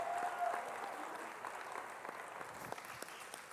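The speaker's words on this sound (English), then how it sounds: "give him a big round of applause" Steady applause from an expo audience at a youth business keynote event, fairly faint and continuous, holding for several seconds at an even level.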